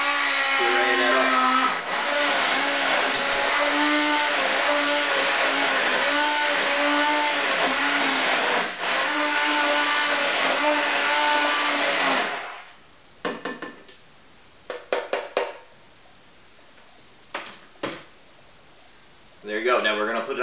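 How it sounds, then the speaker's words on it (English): A handheld immersion blender purees fresh tomato sauce, whirring loudly and steadily for about twelve seconds, then dropping to a few short bursts and pauses before it spins up again at the end. "we're going to take it, our trusty little hand blender"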